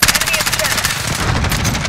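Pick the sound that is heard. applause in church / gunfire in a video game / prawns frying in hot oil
gunfire in a video game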